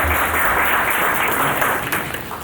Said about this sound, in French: Merci, Excellence, pour vos applaudissements.